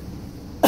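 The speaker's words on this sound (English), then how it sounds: "I got this cough." A single sharp cough from an adult, close and abrupt, arriving after a stretch of quiet room tone.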